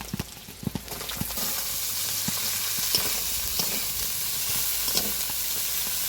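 Peas, potato, eggplant, greens and green chillies land in hot fish oil from a katla fish head in a village kitchen, sizzling steadily and loudly, with a few sharp clatters of stirring near the start.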